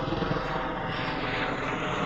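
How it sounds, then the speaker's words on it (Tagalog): A helicopter's continuous rotor and engine drone fills the air, steady and moderately loud, without any voices. "Ay, may helicopter."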